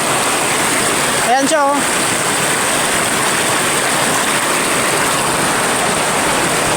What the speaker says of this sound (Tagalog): Malakas yung agos niya mga lods.